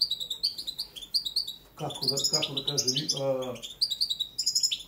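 Song of a European goldfinch of the Balkan subspecies Carduelis carduelis balcanica, a singing bird with faults in its song: bright, rapid twittering phrases recur through the clip while someone talks over the middle part.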